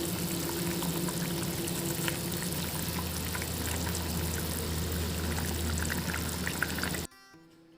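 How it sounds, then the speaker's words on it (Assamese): Fish curry with cauliflower boiling in a pot makes a steady bubbling, spattering simmer at close range. It cuts off abruptly near the end. "পাকঘৰত মাছৰ জোল উতলি আছে বাৰু"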